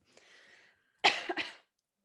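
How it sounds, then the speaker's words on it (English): A person coughs while drinking: a faint breathy throat sound, then a sharp, close double cough, the two bursts quick and loud in an otherwise quiet room. "I always cough when I drink."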